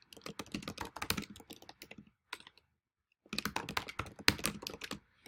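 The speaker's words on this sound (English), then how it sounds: "I am simply clicking on it to backspace to enter in that correct information" Fast typing on a computer keyboard while editing text, dense bursts of close clicking keystrokes broken by a short pause, with no talking.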